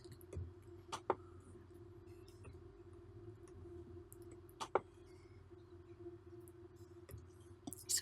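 A computer mouse gives a few sparse, faint clicks, single and double, spaced seconds apart against a quiet room hum.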